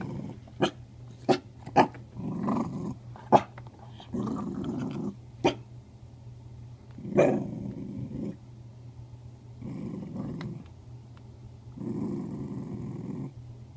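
Cattle dogs growl in low rumbling bursts broken by sharp, repeated barks, close and fairly loud, with a few longer growling stretches between clusters of barks.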